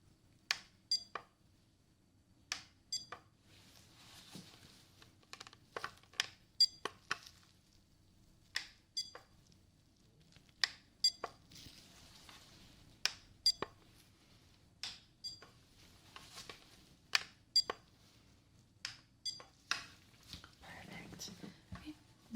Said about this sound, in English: beep sound, and I want you to tell me what side you hear the beep